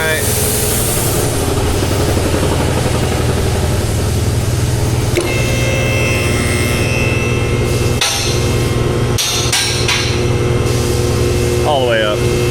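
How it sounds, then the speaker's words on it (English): Air compressor and sandblasting cabinet running nonstop in a workshop, a loud steady drone with hissing air, a few sharp knocks partway through, and someone talking over the noise near the end. "the compressor is going and going and going. So it's a little noisy at the moment."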